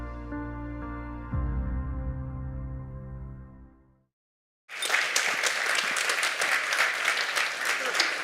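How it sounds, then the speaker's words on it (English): Audience applause at a private equity event breaks out after a pause, a dense, sustained clapping from a sizable crowd lasting several seconds, following music that fades to silence. "Round of applause"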